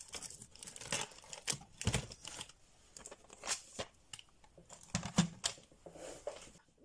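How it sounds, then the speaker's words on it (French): Scissors cutting white paper, heard as a string of crisp snips and rustles in irregular bursts, close up and fairly quiet, with no one talking. "donc là on va couper notre papier blanc"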